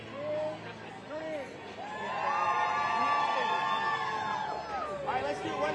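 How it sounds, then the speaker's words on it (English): A crowd at a rally outside the Supreme Court lets out a big cheer on a count of three, a swelling wash of yells and whoops that builds and holds loud, with voices mixed through the roar. "I want y'all to give me the biggest cheer ever"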